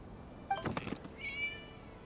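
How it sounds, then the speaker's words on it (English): A cat meows in a Genshin Impact video game scene, two short, quiet mews close together followed by a longer, higher meow, with no talk. "It was just a cat."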